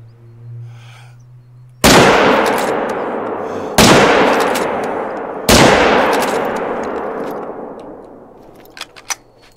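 Three loud rifle shots from the hunting game theHunter: Call of the Wild, each a sharp blast with a long echoing decay, spaced about two seconds apart, with no talk over them.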